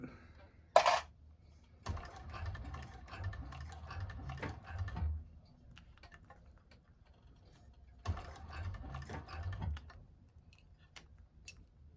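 A 1341 cylinder arm sewing machine stitching a bag, sewn one stitch at a time: two short bursts of close mechanical ticking and clatter separated by quiet pauses, with a sharp click near the start.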